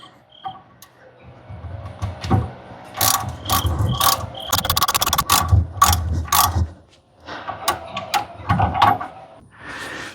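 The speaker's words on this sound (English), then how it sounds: "Then use the torque wrench to tighten it down to 40 foot-pounds." A wrench clicks while tightening a Ford Ranger sway bar link, sounding as close, repeated bursts of ratcheting clicks and metallic taps in irregular groups with short pauses, a voice faintly present.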